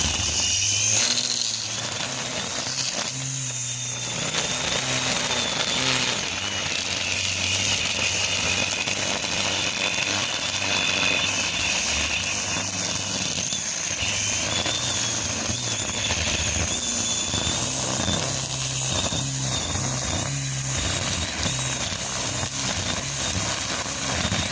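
A DeWalt 20V XR Gen2 brushless 14-inch foldable string trimmer runs on its high setting, cutting dandelions, giving a steady, loud motor whine with a high-pitched edge that holds throughout with small fluctuations as the line bites into the weeds.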